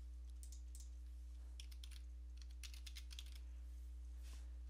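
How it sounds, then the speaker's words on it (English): Quick bursts of keystrokes on a computer keyboard while typing a search into the Windows 10 Start menu, faint and close against a steady low electrical hum, with no voices. "and then typing in Services."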